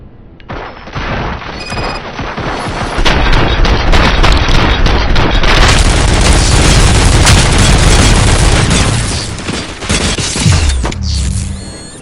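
Sustained heavy gunfire and booming blasts in the RoboCop: Rogue City shooter, loud and dense after a short buildup, with rapid crackling shots and crashes that ease off briefly near the end before surging again.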